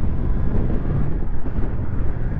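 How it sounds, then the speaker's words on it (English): Steady, loud wind roar buffets the microphone while riding a 2022 Triumph Tiger Sport 660 motorcycle on a dry, very windy day, a continuous low rumble with no talking. "It's very windy today."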